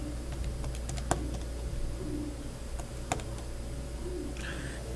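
Quick, light plastic taps come from numbers being keyed into a calculator in short irregular bursts, with two sharper clicks standing out. A faint bird coos once in the background near the end.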